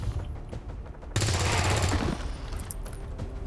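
A sudden burst of weapon fire in the tactical game XCOM 2, opening with a loud crack and rolling on as a dense, roaring blast that slowly trails off.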